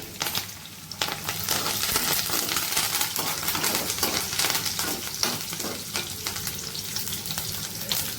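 A sprig of curry leaves fries in hot oil with a loud, dense sizzle while a spoon stirs, scraping and clicking against the pan for the whole stretch.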